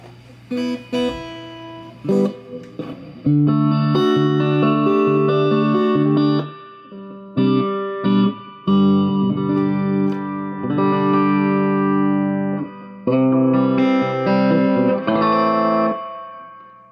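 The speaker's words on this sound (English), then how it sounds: "we got really nice, beautiful Ampeg Reverborocket Reverb" An electric guitar plays chords and single notes through a repaired vintage Ampeg Reverberocket tube amp, each phrase trailing off in a spring-like reverb wash, loud and close.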